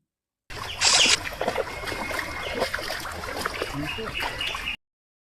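Feet splash and swish in shallow water beside a jute field as someone wades in and washes them, a close, uneven series of soft sloshing and trickling sounds with a brief louder splash early on.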